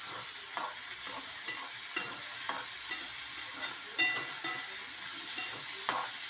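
Soaked toor dal with a pinch of hing being stirred and roasted in a hot pan, giving a steady soft sizzle broken by repeated scraping strokes of a spoon, close and moderately quiet, with no voices.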